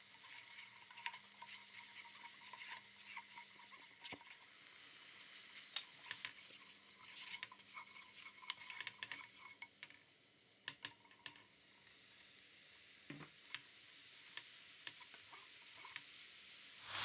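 Garlic, ginger and spices sizzle steadily in about a spoonful of olive oil while being stirred, a continuous close frying hiss broken by scattered clicks and scrapes, with no talking.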